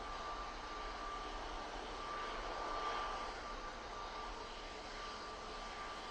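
A passenger jet leaving Manchester Airport for Palma de Mallorca produces a distant, quiet engine roar with a faint thin whine, holding steady and swelling slightly midway, with no talk.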